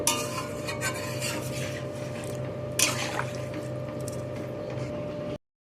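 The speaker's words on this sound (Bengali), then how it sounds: "এখন এর মধ্যে আমি দিয়ে দেব জল। জল দিয়ে দিলাম।" Water poured into a pan of light Bengali drumstick curry: a steady broadband rush and splash that runs almost continuously, with a sharper splashy burst midway, then cuts off abruptly.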